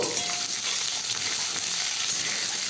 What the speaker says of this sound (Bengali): এবার আমি কড়াইতে লবঙ্গ দারচিনি এলাচ আর শুকনো লঙ্কা ফোড়ন দিয়ে ডিম আর আলুটা একসাথে ভেজে নেব